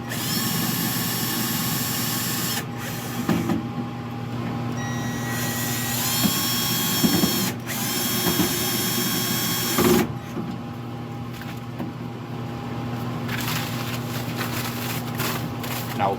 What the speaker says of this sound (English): then just reinstall our 2 Phillips screws